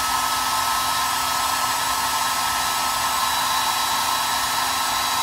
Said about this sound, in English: Now, I'm going to come back with my hair dryer